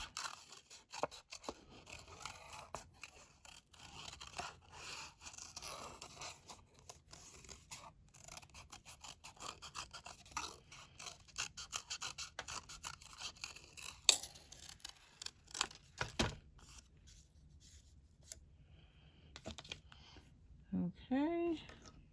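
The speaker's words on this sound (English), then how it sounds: "Where's my scissors? Let's cut the bunny out." Scissors snip out a paper bunny at a rubber-stamping craft table, a quiet run of close, irregular crisp cuts and paper rustles lasting most of the clip, with soft talk near the end.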